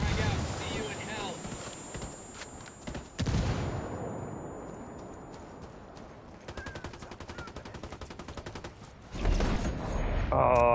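Gunfire bursts and explosions from the video game Ghost Recon Wildlands, with rapid automatic fire, sharp blasts and a dense rattling volley later, mixed with game sounds.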